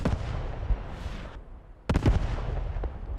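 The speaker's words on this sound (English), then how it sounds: "Oh, this is Allied artillery." Allied artillery fire in the WWII shooter Post Scriptum, heavy booming impacts with a rumbling roar, a brief lull, then a fresh cluster of loud blasts and crackling debris.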